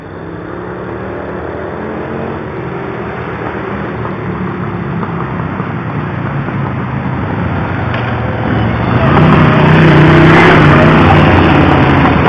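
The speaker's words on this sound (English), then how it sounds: "Hear that? That unnecessary revving?" Loud motorcycles revving, a heavy rumbling engine drone that swells louder toward the end as throttle rises, close by and without talk.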